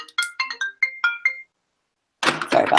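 A mobile phone ringtone chirps out a quick rising sequence of bright electronic notes, loud and close, then stops; after a short silence a voice begins speaking.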